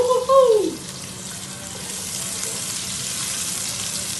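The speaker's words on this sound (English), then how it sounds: "Hear that sizzle?" A brief vocal whoop opens, then a steady hissing sizzle of onions and garlic frying in a pan for chop suey continues evenly, fairly close.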